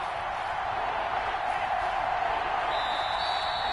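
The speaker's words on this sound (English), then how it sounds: "the crowd getting into it as we come up on a big third" A stadium crowd in the video game Madden 21 keeps up a broad, steady roar of cheering during a playoff game, loud and unbroken throughout, with a faint voice partly audible under the noise.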